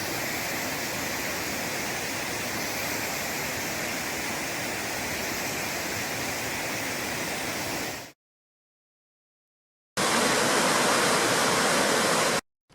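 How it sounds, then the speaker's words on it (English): Bond Falls, a waterfall in Michigan's Upper Peninsula in winter, roars as a steady broadband rush of falling water for about eight seconds. After a short silent gap it returns, loud and constant, before cutting out. "Bond Falls is really awesome. Great waterfall in the UP."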